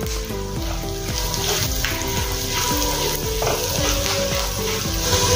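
Spices and coriander sizzle and fry in a pan while a spoon stirs and scrapes steadily through the mix, close and continuous with no talking.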